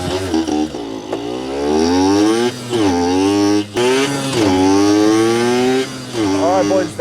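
A Yamaha YSR50 mini street bike engine revs loud and close in rising and falling bursts, with a brief dip partway through.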